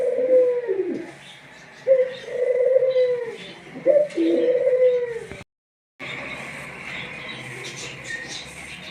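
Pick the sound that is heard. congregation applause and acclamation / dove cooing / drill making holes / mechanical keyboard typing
dove cooing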